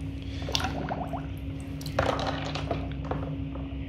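Water rinsing vaccine out of valves, squishing, gurgling liquid close by with irregular splashes over a steady low mechanical hum.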